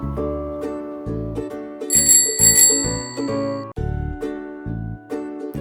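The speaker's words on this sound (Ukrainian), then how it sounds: "Так, правильно, це велосипед." A bicycle bell rings in a few quick bright trills, clear and close, over light background music.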